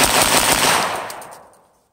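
Rapid fire from a Ruger Mark III 22/45 pistol, a fast string of shots blurring into one loud, close burst that then trails off into fading echo.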